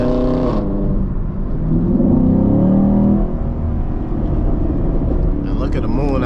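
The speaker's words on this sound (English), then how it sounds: "that thing is loud. I love these V8 engines" A Camaro SS V8 revs loud and close during a late-night drive, a deep rumbling engine note that swells and holds, with someone talking over it.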